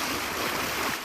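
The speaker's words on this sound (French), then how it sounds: "Sur l'eau, pas de bruit de moteur pour les jeunes apprentis, mais celui des vagues" Waves lapping against a small boat on open water, a steady broadband wash with gentle swells, fairly loud and close, with no voices.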